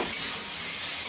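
Boiled potato fries with onion in hot oil, a steady, bright sizzle and hiss that fills the short stretch with no voices.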